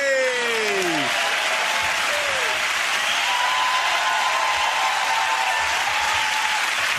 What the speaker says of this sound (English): give that round of applause to James, Sarah and Andy